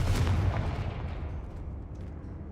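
A Confringo fire spell explodes in the Hogwarts Legacy video game. It lands as one loud, booming blast that rumbles and fades away over about two seconds, with no voices over it.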